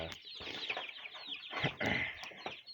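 Young chicks cheeping in a cluster close by, a continuous jumble of shrill peeps mixed with soft rustling and brief fluttering of small wings, no voices.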